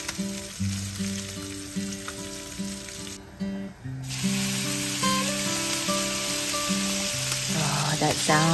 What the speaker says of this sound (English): That sound of that sizzle,